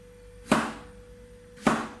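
A knife roughly chops a courgette on a board, two separate sharp thuds about a second apart, close and otherwise quiet.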